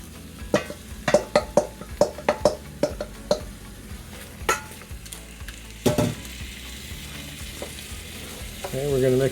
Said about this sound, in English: there goes our crushed tomatoes